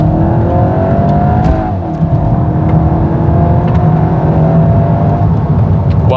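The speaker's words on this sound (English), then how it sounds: "both from the engine and from the exhaust." A 2025 VW Golf GTI in sport mode accelerates hard, its engine and exhaust note rising steadily with a brief dip around a gear change, loud and continuous from the cabin.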